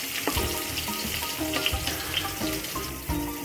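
Tomatoes and onion frying in oil in a pan for a Maharashtrian Bhogi vegetable dish, giving a steady close sizzle with occasional stirring scrapes and clinks throughout, no voices.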